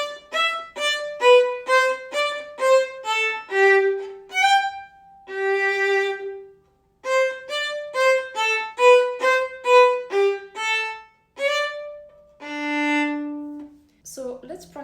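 A solo violin plays Gossec's Gavotte from Suzuki Book 1 in short, bouncy detached notes, pausing briefly between phrases before held notes close each line. It is clear and close, with no talking.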